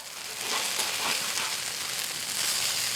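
Food sizzling hard in an overheated cast iron skillet at a cold-weather campsite, a steady bright hiss and crackle, close and unbroken with no talking.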